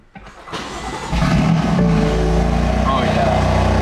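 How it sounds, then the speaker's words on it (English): A BMW M4 with a new exhaust cranks and fires up, the starter whirring briefly before the engine catches and settles into a loud, steady idle; a voice speaks over it. "we're going to go ahead and start the car"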